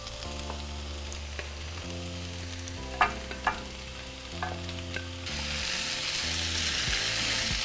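Diced potatoes, tomatoes, onion and jalapeños fry in a pan with a soft, steady sizzle and a few utensil clicks, the frying growing louder toward the end, under background music.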